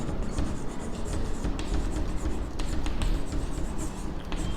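Pen or marker writing by hand on a board or paper while working a linear equations maths problem, a steady close scratching with small tapping strokes and no talk over it.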